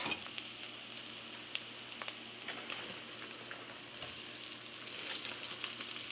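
Bacon fries at a steady low sizzle in a pan, with faint crackles and occasional soft scrapes of stirring, fairly quiet and continuous with no talking.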